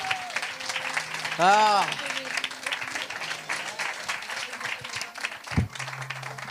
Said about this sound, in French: On applaudit, ouais.